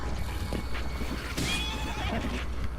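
In The Legend of Zelda: Breath of the Wild, a horse gives a short, high neigh in the middle of the game's ambient sounds, moderately loud and close, with light clip-clop and scattered effects around it.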